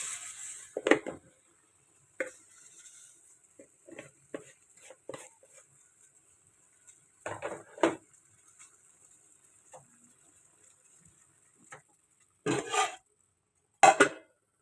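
A pot and utensils clink and knock sporadically as tea leaves go into boiling water, soft scattered scrapes and a few sharper taps against a quiet background with a faint high whine.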